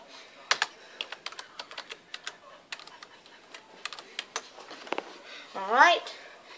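A password being typed on a computer keyboard gives light irregular clacking keystrokes close up, ending with a brief spoken remark.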